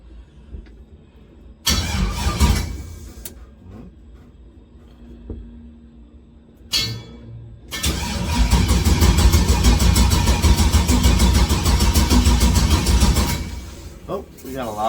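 A drag-build car started with its push button: a few short starter bursts separated by quiet and a voice, then the engine catches and runs loudly at a rough, steady idle close by.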